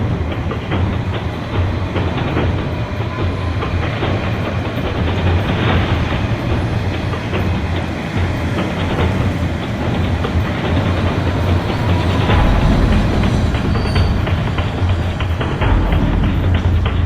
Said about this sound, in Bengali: একটু পরে ট্রেন চলে আসবে